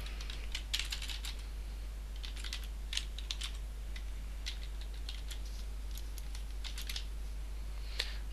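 Quick, light clicking of fingers typing on a computer keyboard while filling out a web form, heard as faint bursts of keystrokes over a steady low hum.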